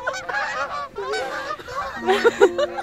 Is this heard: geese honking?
yes